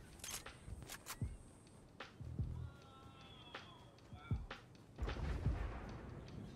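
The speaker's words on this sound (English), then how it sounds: "What was that explosion?" Video game explosions and gunfire-like bangs pop in scattered bursts, with a heavier booming blast near the end, mixed with thin electronic tones and faint background noise.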